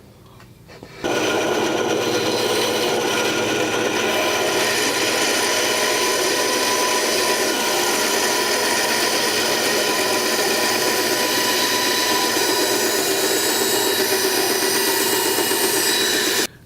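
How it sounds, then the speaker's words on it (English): A bandsaw cutting and rounding the edges of a wooden board sets up a loud, steady whine with a broad hiss that starts abruptly after about a second and holds unbroken to the end. "I'm pretty much just going to take my bandsaw and just kind of round out the edges"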